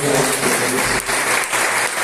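A church congregation applauds loudly and steadily during a Thursday worship service, a dense wash of clapping that continues throughout.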